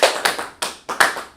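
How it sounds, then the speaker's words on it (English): A small group clapping in a few separate sharp bursts, each quick and loud, with brief gaps between them and no talk over the claps. "Labaya, clap it up for everybody"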